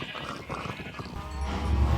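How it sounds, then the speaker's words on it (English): Cows moo in the Minecraft video game with creature volume turned up. Low bleating calls grow louder and fuller toward the end, with no talk over them. "if you're wondering why the cows are a little louder than they normally are, I have turned up the volume on creatures"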